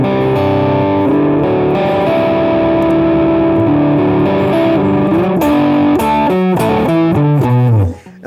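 Distorted electric guitar on the neck pickup with the tone knob fully rolled down plays a dark, muffled sustained lead line, loud and continuous, ending in quick note runs before stopping, with no talking.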